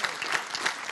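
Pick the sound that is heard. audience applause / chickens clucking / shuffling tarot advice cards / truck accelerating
audience applause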